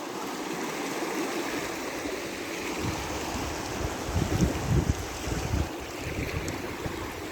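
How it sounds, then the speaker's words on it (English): A river flows steadily beside a trail in Utah, a broad, continuous wash of moving water close to the microphone, with slightly louder surges near the middle and some wind noise. "Cool little spot here by the river."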